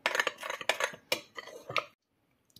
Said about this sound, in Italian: Unisco la farina, il sale, il lievito, mescolo con un cucchiaio